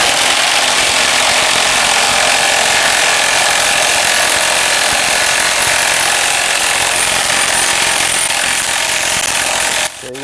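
A Milwaukee M18 High Torque impact wrench in nut release mode loosening a nut, hammering loudly and steadily up close for about ten seconds before cutting off abruptly.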